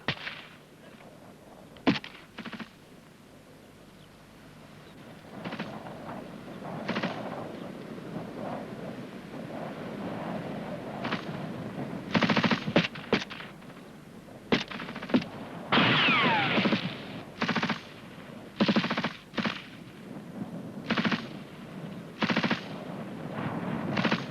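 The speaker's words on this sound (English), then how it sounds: "the rest of the rifle group are giving them covering fire" Rifle group of a British Army section laying down covering fire, a long run of sharp gunshots in irregular bursts and single cracks, moderately distant, with wind buffeting the microphone throughout.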